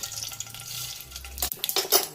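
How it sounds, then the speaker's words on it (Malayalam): Mustard seeds hit hot oil in a pan and crackle in quick, irregular popping bursts that grow sharper toward the end, close up, with a low hum beforehand and no talking. "ചൂടാകുമ്പോൾ കടുകിടാം."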